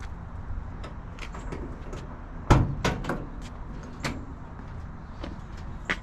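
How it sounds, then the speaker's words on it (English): Door of a 1966 Chevy being opened, heard as a quiet latch click followed by a sharper clunk and a few lighter knocks and rattles in a calm space. "open the door, check it out."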